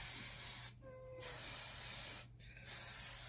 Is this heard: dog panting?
no